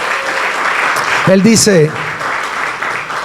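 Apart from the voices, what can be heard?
church congregation applause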